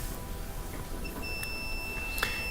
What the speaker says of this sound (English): I'm going to put my probes on there to see if I hear a beep.